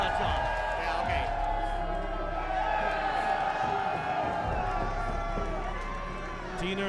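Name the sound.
wrestling crowd cheering and clapping for Deaner and Durag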